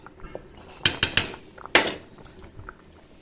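Metal cooking pots clatter and knock in a home kitchen as a pot of boiled rice is taken off, several sharp close clanks in quick succession over a quiet background.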